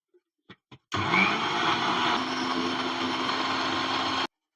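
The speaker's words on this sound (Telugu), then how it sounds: "ఇప్పుడు ఇక మిక్సీ పట్టుకుందాం." A kitchen mixer grinder blends mint, coriander and salt into juice: a few quick clicks, then a loud, steady motor whir for about three seconds before it stops abruptly.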